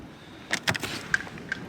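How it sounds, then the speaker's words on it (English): A bathroom door at a snowy truck-camping stop is tried and pulled open: a few clacking latch and handle knocks, then lighter clicks, close by with no talking. "Let's see if the door's open on that."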